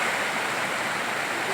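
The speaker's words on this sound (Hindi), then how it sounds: "इसमें ये दूसरा झरना है जो कि सबसे बड़ा झरना" Steady roaring rush of a large forest waterfall on the Kalishila trek, a dense broadband water noise, loud and close, unbroken for the whole moment with no voices.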